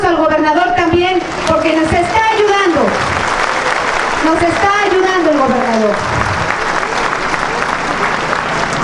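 A crowd applauds at a regional news gathering in Tecamachalco, with steady clapping running throughout while someone speaks over it in Spanish during the first half.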